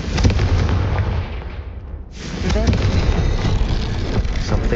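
A Confringo spell explodes in the video game Hogwarts Legacy, a dense booming roar with a brief dip before the blast noise surges back and rumbles on, with a voice calling out over it.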